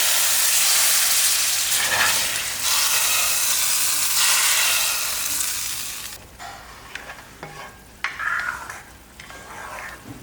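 Fried turkey berries poured into a pot of kuzhambu, producing a loud close sizzle and hiss for several seconds that drops away, followed by a few scattered clinks and softer bubbling.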